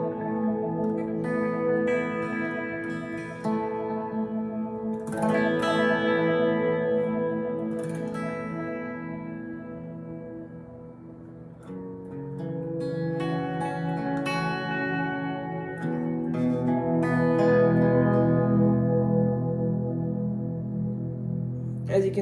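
An electric guitar plays through the clean channel of a Headrush Core modeler with reverb: single notes and chords ring out in a slow, unhurried phrase, each trailing into a long, washy reverb tail.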